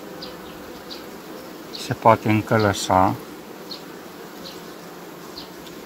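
Honeybees buzzing at an open beehive, a constant soft hum filling the background while someone speaks briefly in Romanian over it.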